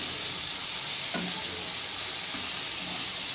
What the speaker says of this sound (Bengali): জল দিয়ে গ্যাসের ফ্লেমটা মিডিয়ামে রেখে মশলাগুলোকে ভালোভাবে কষিয়ে নিতে হবে